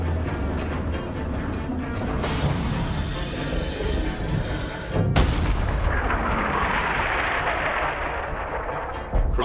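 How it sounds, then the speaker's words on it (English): A cannon fires in the Borderlands 3 video game: heavy, booming blasts with sharp onsets over a dense rumbling wash of game noise, with no speech. "Load up the cannon so we can savor the sweet taste of vengeance."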